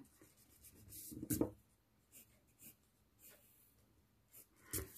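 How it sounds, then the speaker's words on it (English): A pencil draws bumpy lines on paper in short, faint scratching strokes, several separate scrapes with quiet pauses between them. "now keep the pencil on first bumpity line and again here you have to draw big bumpity line like this"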